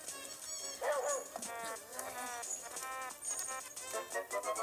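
A dog yips and barks several times with whimpering in between, from the video game The Legend of Zelda: Link's Awakening, sounding synthesized and game-like, with a voice speaking faintly underneath.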